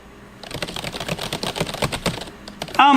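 Typing on a Razer Cynosa Chroma gaming keyboard, a rapid, uneven run of soft, muffled keystrokes close to the microphone at moderate loudness, ending with a brief sharper noise.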